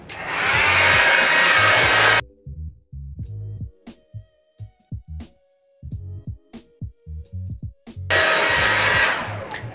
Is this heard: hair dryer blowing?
yes